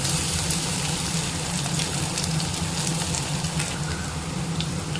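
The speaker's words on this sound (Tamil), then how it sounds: "எண்ணெய் காஞ்சிருச்சு நம்ம கட் பண்ணி வச்சுருக்க இஞ்சி பூண்டு" Chopped ginger and garlic fry in hot oil, giving a steady close sizzle and crackle that holds evenly from start to finish.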